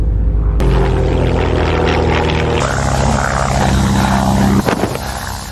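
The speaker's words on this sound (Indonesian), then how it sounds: "tiba-tiba ia mendengar suara knalpot pesawat yang kebetulan sedang melintas" A loud, steady drone of an airplane engine passing overhead roars throughout, with a low rumbling hum that shifts slightly partway through and no voices.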